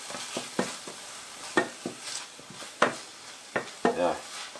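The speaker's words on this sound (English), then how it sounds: "So you just want to make sure that the vegetable fry up properly." Vegetables frying in a pan while Jamaican boiled banana dumplings with cornmeal are made, a soft steady sizzle broken by repeated sharp scraping and stirring clatters from a utensil against the pan.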